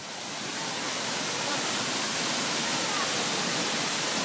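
Kabigan Falls waterfall roars in a steady, dense wash of rushing water that stays loud and unbroken from start to finish, with no clear voices over it.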